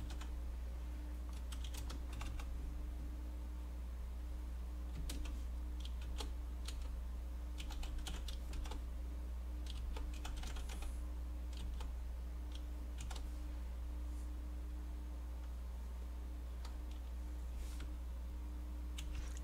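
Steady keyboard typing while Python code is entered, soft rapid clicks sitting over a constant low electrical hum, with no talking.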